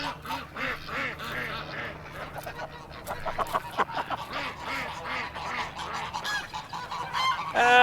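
Wild ducks and geese on a farm honk and quack continuously, a dense, busy chorus of overlapping calls close by, growing louder and more crowded toward the end.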